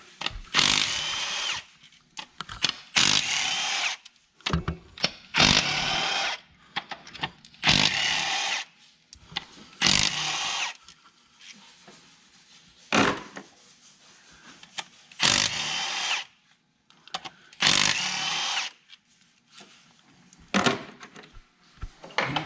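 Power tool spinning out rocker bolts on a 6.0 diesel engine head, a string of short loud whirring bursts separated by brief pauses and light metallic clinks, close up with no talking.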